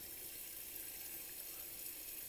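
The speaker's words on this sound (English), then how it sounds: "Then I immediately put it underneath the water and I peel open an edge." Tap water runs steadily into a sink over a freshly hard-boiled egg being peeled, a close, even rushing stream that continues without a break.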